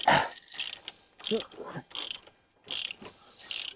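Ratcheting clicks of a torque wrench tightening to 25 newton meters during an oil and filter change on a Volkswagen Caddy 1.9 TDI, close, sharp bursts in short irregular runs with brief pauses.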